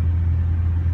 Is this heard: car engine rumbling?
yes